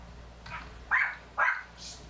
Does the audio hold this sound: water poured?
no